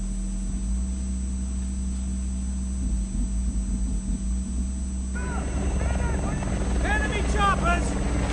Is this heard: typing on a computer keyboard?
no